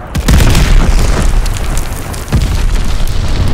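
Glide bomber strike in Call of Duty: Vanguard, loud deep booming explosions rolling on for several seconds with a second heavy blast partway through, no talking.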